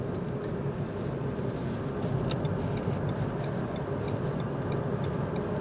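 Renault Megane Sport Tourer with a combustion engine and manual gearbox pulling onto a motorway from a slip road, a steady broadband engine and road drone heard from inside the car at a constant level throughout, with no talk.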